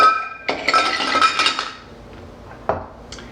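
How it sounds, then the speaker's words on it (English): Ice cubes clatter and clink into a cocktail mixing glass for a stirred drink of sweet vermouth, Licor 43 and Maker's Mark whiskey, a loud burst of tumbling cubes followed by a few sparse later clinks. "going to add ice to my mixing glass"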